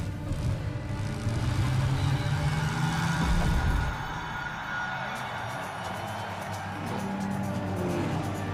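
Race cars at a racetrack in the video game The Saboteur, a steady loud engine roar with a rising whine and tire noise, cars running close, no talk over it.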